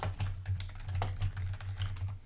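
Rapid, irregular clicks of typing on a computer keyboard, close and clear over a steady low electrical hum, with no voices.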